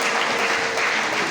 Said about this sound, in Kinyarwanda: Dukomere Imana amashyi cyane